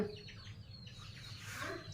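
A chicken at a family home clucks faintly a few times, low and somewhat distant against a quiet background.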